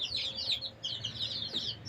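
Chickens and roosters in a chick-rearing shed, giving a busy run of close, high clucks and chirps with no one talking.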